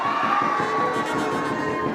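An audience at a poetry recital cheers and claps in a dense, lively burst of crowd noise, loud and sustained across the moment.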